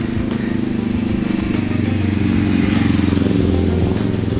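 A Giant Revolt 2 motorcycle engine runs steadily and close by with a low, throbbing rumble, with slight rattling and clatter over it.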